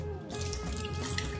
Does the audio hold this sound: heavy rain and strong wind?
no